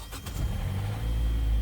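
A 2014 Hyundai Sonata cranks and catches, a short starter whir rising into a steady low engine idle that settles in close and fairly loud.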